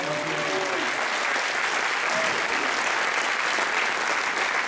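Audience applause at a Marathi event honoring a Filmfare award winner, a dense, sustained burst of many hands clapping at steady loudness, with faint voices briefly audible beneath it.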